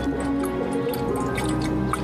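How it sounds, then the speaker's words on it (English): Water drains through a pipe from the top vessel of a fountain model into the bottom vessel, a steady close trickling and dripping with gurgles running continuously. "We can see the water is draining from this top vessel as fast as that pipe will carry it really down into the bottom vessel."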